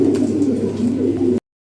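Lahori Sirazi pigeons coo close by in soft, low, rolling calls that continue for over a second before the sound stops.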